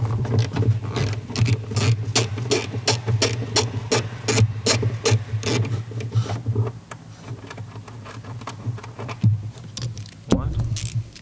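Screws are taken out of the tail light on a 2012 Mercedes C Class W204, with a rapid run of close, even ticking clicks from a ratcheting driver, then slower isolated clicks and a brief knock.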